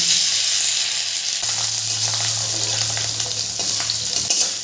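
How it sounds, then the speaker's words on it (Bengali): Two large potatoes, diced, fry in oil in a pan for a vegetarian cabbage dish. A close, steady sizzle carries on without a break, with a low hum underneath and no talking. "আলুটা একটু লাল করে ভেজে নেব।"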